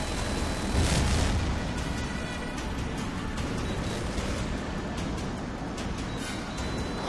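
Explosion of a destroyed ground target in an F-22 Raptor scenario, a broad rumbling blast swelling near the start and rolling on as a sustained roar with scattered crackles.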